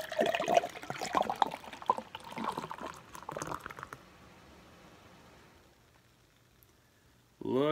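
Nitro beer, a red velvet ale from Ballast Point, pours and trickles steadily into a glass for a few seconds, then fades to quiet fizzing before a voice starts.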